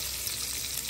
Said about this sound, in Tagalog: Gisa mo na ng mga sangkap. Bawang, sibuyas,